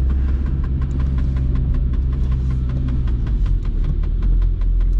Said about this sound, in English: you feel the engine roaring